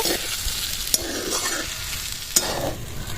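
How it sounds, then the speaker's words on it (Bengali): Sabudana stirred in a pan to dry its water for laddu, a continuous close sizzle with rhythmic spatula scraping and two sharper knocks against the pan. "ভালো করে নাড়াচাড়া করে নেবো যাতে সাবুর গায়ে জল না থাকে"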